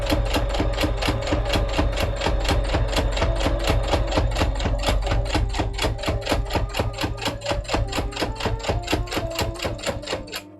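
A sewing machine sewing a cosplay piece runs loud and close with a fast, steady, evenly spaced clatter throughout, slowing slightly near the end before stopping.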